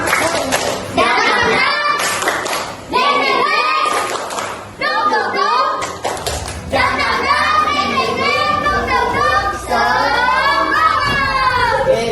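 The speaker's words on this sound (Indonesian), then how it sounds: "Coba. Tepuk semangat." A group of children performing the rhythmic 'tepuk semangat' clapping cheer in a classroom, patterned claps alternating with chanted words, loud and close, in several repeated phrases.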